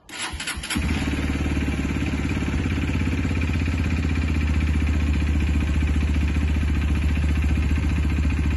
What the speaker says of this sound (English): Let him idle and warm up for a second.